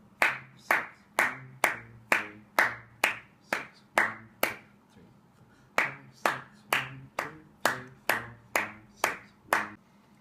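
Sharp hand claps fall in a regular rhythm as accompaniment to a trumpet trio rehearsal, pairs of crisp claps repeating close and loud with a brief pause midway, no voices over them.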